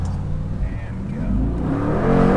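A Mercedes G63 SUV's powerful engine roars as it accelerates, the rumble building steadily louder and higher over a couple of seconds, close by.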